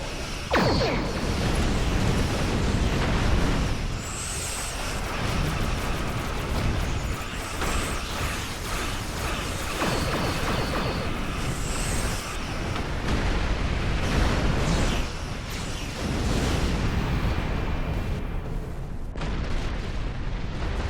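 Ship weapons and explosions in a Star Trek Online space battle against Alachi vessels near a mycelial rift, a dense continuous roar of booms and energy blasts with occasional high whines, loud and unbroken throughout.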